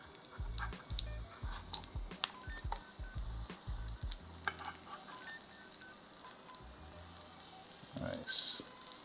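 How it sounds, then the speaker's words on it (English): Breadfruit fritters made from overripe breadfruit shallow-fry in a pan with a steady, close sizzle of hot oil, broken by occasional low thumps and clatter as pieces are handled. "And because we're shallow frying these, we don't want to make them too big or too tall"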